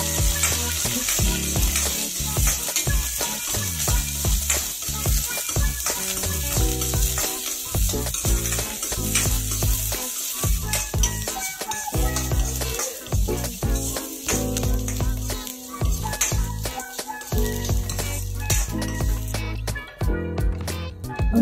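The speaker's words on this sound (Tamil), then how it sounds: "அப்படி வெங்காயத்தையும் சேர்த்து நல்லா வணக்குங்க." Dried red chillies and onions fry for a coriander seed chutney, giving a loud, continuous sizzle close by with frequent stirring scrapes and clatter against the pan.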